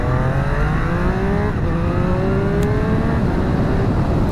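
A Triumph Street Triple RS middleweight naked motorcycle with a triple engine revs hard and loud, its pitch climbing in repeated rising sweeps through the gears over steady road and wind noise.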